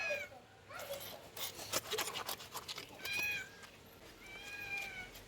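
A house cat waiting for fish being cleaned meows repeatedly at close range, several rising and falling calls spread across the stretch over quiet domestic background noise, with no talk.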